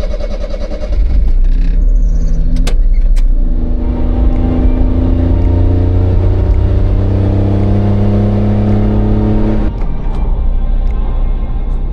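Honda Beat kei car driving home, its engine note steady and close as it cruises, rising slightly mid-run then easing near the end, with no talk over it.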